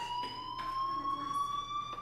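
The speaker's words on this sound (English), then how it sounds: "Hey, do you hear that fire alarm?" A fire alarm in the video game Life is Strange rings as a steady, loud electronic tone with a slight upward drift. It is heard alone, without speech.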